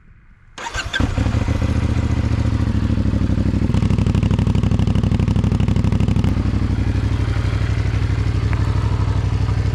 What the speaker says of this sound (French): c'est le bruit de l'échappement d'origine qui est vraiment plutôt cool